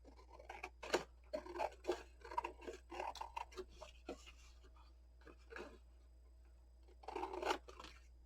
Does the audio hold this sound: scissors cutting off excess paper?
yes